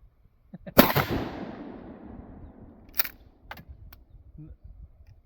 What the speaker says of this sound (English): We'll shoot one of the old double-aught bugs.